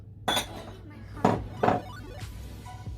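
Cucumber chunks and other fruit dropped into a blender jar for a healthy shake, giving a few sharp clinks and thunks against the container at irregular intervals, with faint background noise between them.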